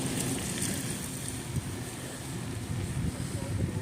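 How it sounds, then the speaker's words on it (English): Steady rain patters continuously, with wind rumble and broadband hiss, and a person's voice faintly underneath. "It's just raining right now."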